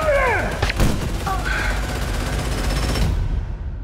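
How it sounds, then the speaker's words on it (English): Gunfire in an action movie trailer, a few sharp shots and a burst early on, mixed with shouting voices and dramatic score before the sound fades out. "Shoot him!"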